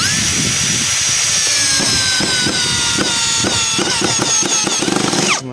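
A DEVETECH CS-45 compact cordless screwdriver drives a large crosshead screw with a bit that is the wrong size, giving a loud continuous motor whine that falls in pitch as it loads, broken by a rapid clatter of slipping clicks.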